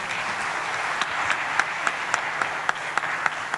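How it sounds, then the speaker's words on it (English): Applause for the President of Tanzania at an infrastructure forum in Dar es Salaam: a steady crowd clapping with several sharp, close individual claps punctuating it in a fairly regular rhythm. "A round of applause to Her Excellency Dr. Samia Suluhu Hassan, the President of the United Republic of Tanzania, for those great words"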